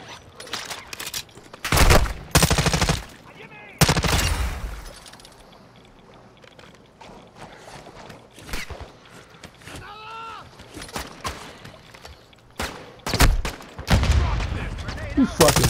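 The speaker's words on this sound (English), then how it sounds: "Oh my god, I'm getting shot in the back" Bursts of rapid gunfire in an online clan shooter game, several loud volleys separated by quieter stretches, with players talking over the action.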